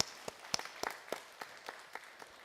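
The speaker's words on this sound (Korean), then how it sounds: "우리 부모님들을 위해서 우리 감사의 박수를 한번 드리도록 할까요?" Church congregation clapping in thanks for their elderly parents, about ten sparse, separate claps scattered across the moment, fairly quiet and thin rather than a full ovation.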